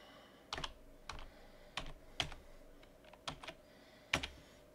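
Keystrokes on a computer keyboard while Python code is typed, about eight sharp separate clicks in irregular bursts, close and fairly quiet, with no talking.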